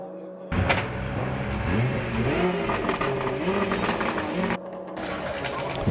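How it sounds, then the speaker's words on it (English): Drift car engines revving at the FIA Motorsport Games drifting battle at Circuit Ricardo Tormo, a loud sustained roar with rising and falling revs that stops abruptly near the end, then resumes. "As we hear, the engines are revving."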